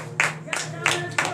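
A congregation at morning prayer claps in acclamation, four sharp, evenly spaced claps from a small group, heard fairly close.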